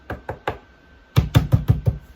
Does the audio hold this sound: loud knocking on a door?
yes